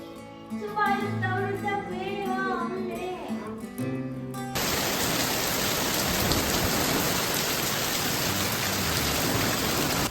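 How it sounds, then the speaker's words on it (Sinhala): After a stretch of music, sudden heavy rain bursts in as a dense, loud, continuous roar of drops on surfaces that fills the rest of the scene. "ඊට පස්සේ ඉතින් හිතුවේවත් නැති විදියට වහින්න ගත්තා. මහා හයියෙන් වහින්න ගත්තා."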